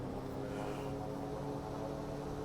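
Steady, droning engine of an Ants Drifter ultralight at takeoff power in Microsoft Flight Simulator, holding a constant buzzing hum with no pause or talk.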